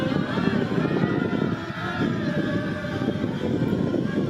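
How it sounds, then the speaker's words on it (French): Powerful engines roar in a steady, loud, low rumble that holds without a break from start to finish. "Puissant les moteurs, non?"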